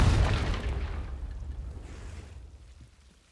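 A booming fire-spell blast in the wizarding game Hogwarts Legacy: one heavy, close explosion that strikes at once and then rumbles away over about three seconds.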